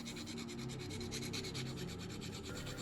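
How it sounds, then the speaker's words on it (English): A fine diamond file rubs steadily along the edges of a model car body, a close, soft rasping scrape repeating in quick strokes with no pauses. "I'll just be using this fine diamond file to just clean up some of the edges on this body."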